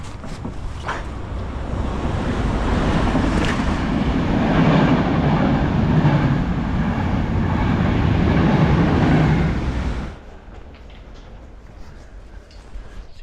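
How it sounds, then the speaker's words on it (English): A train runs through a station on track 3 without stopping, a loud close rumble and rattling roar that holds for about ten seconds before cutting off abruptly to quiet background. "Attenzione, treno in transito al binario 3."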